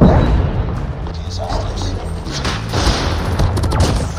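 Gunfire in the mobile shooter Call of Duty Mobile, a burst of booming shots at the start followed by dense in-game battle noise, with a player talking throughout.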